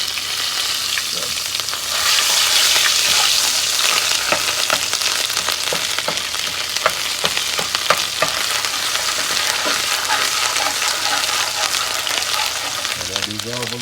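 Tomato paste frying in a pot on the stove while it is stirred, a loud dense sizzle with rapid crackling and scraping of the spoon throughout.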